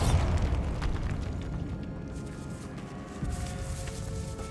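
A Bombarda spell explosion in Hogwarts Legacy, set in a decayed catacomb: a deep rumbling blast that booms loudly at first, then slowly fades into a long low roar.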